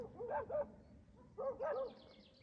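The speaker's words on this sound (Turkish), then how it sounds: "O aşağıdan büyük köpekler de havlıyor." Large dogs bark from somewhere downhill, two short bursts of two or three barks each, faint and distant against quiet outdoor background.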